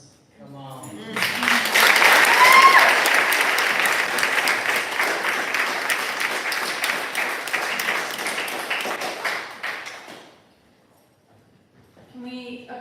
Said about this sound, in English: Can we applause one more time for the showcase readers and the urban readers?